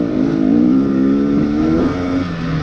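A 2020 KTM XC250tpi two-stroke dirt bike being ridden, its engine droning loud and close with a steady buzzing tone that rises and falls slightly as the throttle shifts, with no voices.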